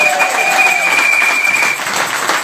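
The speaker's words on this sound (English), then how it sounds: "Give him a big round of applause, please." Audience applause at a street rally in Balbriggan, a dense, steady wash of clapping from a crowd that carries on throughout at close range and loud.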